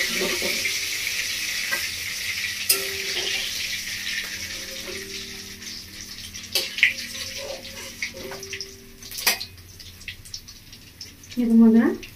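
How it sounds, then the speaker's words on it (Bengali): Fish frying in a pan, village style, gives a steady close sizzle with intermittent clanks and rattles of utensils, and a louder clatter near the end. "মাছটা আমার ভাজা হয়ে গেছে"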